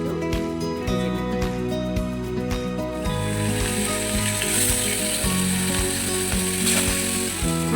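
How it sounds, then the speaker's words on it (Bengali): Four pabda fish fry in a pan with a loud, continuous sizzle and spatter, mixed with repeated clicking and rattling of cookware close by, with no talk. "সেই 4টে পাবদা মাছকেও ভেজে নেব"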